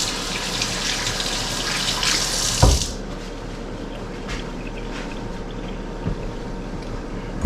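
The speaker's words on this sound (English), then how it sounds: "Let me rinse my hands off." Water runs from a kitchen tap as hands are rinsed under it, a close hissing stream for about three seconds that then cuts off, leaving faint room noise and a few small knocks.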